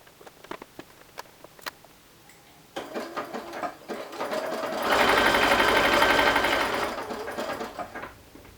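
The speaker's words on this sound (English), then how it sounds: "you're going to stitch right along those edges that you pinned" A sewing machine stitches a shawl collar along pinned edges, starting with light clicks and handling noises before a steady, rising run of rapid needle chatter that slows near the end.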